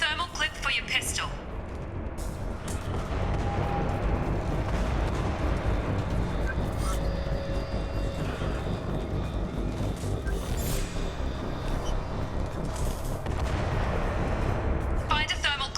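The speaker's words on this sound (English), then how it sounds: "Those canisters by the door are going to blow." Canisters blowing up beside a door in the video game Mass Effect 2, a sustained dense roar of blasts and gunfire-like bursts at steady high loudness throughout, with sharp transients near the start and end and speech mixed in.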